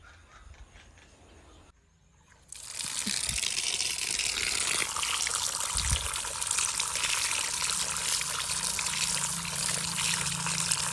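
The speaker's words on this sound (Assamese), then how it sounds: "মইতো এতিয়া ধুই মেলি কাটি লওঁ।" Atlas fruit being washed under running water, a steady broadband gush and trickle that starts after a brief quiet moment and continues loud and close without talk.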